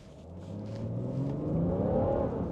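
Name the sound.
BMW 640d Gran Coupe accelerating hard on a wet road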